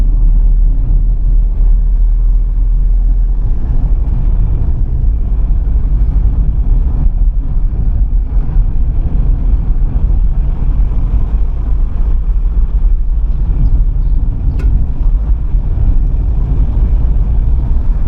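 A car drives along a road near the town of Trebinje, heard from inside as a loud, unbroken low rumble of tyres and engine with wind noise, with no talking.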